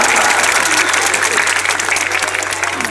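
Loud, dense applause from a gathered audience keeps up steadily throughout, with some crowd noise and faint voices mixed in.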